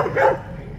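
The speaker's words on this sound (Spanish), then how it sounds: "este gran montón de perritos en este parque" Single short dog bark in a park at night, fairly loud and close, with many street dogs around.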